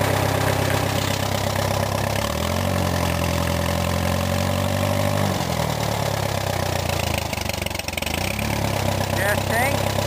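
A 1952 Case tractor engine idling just after a cold start, a loud, steady low chugging rumble close by, with a voice talking over it.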